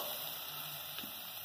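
Shredded chicken, pressure-cooked beforehand, goes into a hot pan for a chicken salpicão, giving a steady close sizzle and frying hiss throughout, with no talk.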